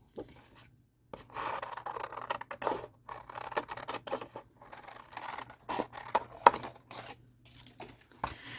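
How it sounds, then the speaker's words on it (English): Scissors cut out a paper wreath backing for a rolled paper flower wreath craft, giving close, intermittent snips and papery rustling in bursts with short pauses. No one speaks. "the first thing you're going to want to do is cut out the wreath backing"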